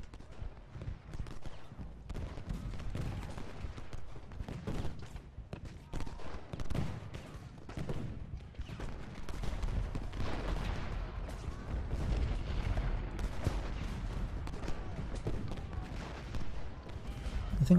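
Musket and artillery fire rolls through a Civil War battle at Gettysburg in a strategy game, with scattered volleys and booms that stay faint and distant throughout.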